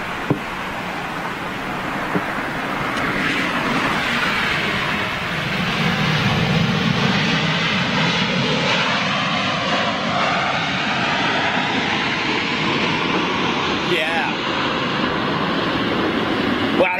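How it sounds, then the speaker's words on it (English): A LOT Polish Airlines Boeing 787 Dreamliner flies overhead, its engine roar swelling and sweeping in pitch as it passes, loud and sustained, with faint talk underneath. "look at this lot Polish Dreamliner."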